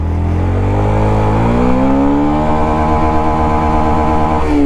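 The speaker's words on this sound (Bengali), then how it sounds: "এই বাইকটার first gear, second gear and third gear পর্যন্তই আপনাদেরকে একটু শো করার জন্য ট্রাই করব" A Yamaha FZX motorcycle revs hard and accelerates through its gears up close, the engine note climbing steadily in pitch with a shift near the end, with no talking.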